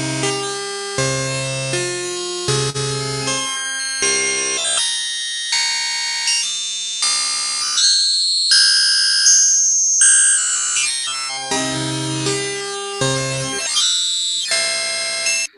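Wavetable synthesizer notes with bright, rich high harmonics play in a sequence of sustained, separate tones that shift in timbre, loud and clean with no talk.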